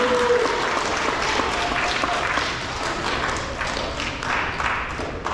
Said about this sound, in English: Let's give our 3rd grade engineer winners a round of applause